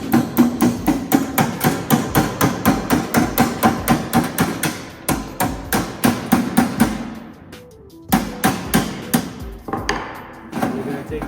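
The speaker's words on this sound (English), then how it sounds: "Go ahead and hammer that in." Rapid, steady hammer blows drive a sheet metal end cap onto the drive edge of a 10x110 metal box. The ringing metallic strikes are loud and close, repeat in a fast run, and pause briefly before resuming.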